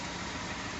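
A 2018 Ford F-150 with the 5.0 V8 idles right after a cold start on a 37-degree December day in Pennsylvania, a steady, close engine rumble with no talking.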